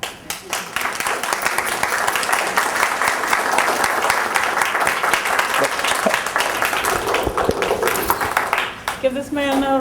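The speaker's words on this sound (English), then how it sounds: "Give this man another round of applause." An outdoor civic event audience at Andersonville breaks into sustained applause, a dense wash of many hands clapping that carries on steadily for several seconds and then tapers off near the end.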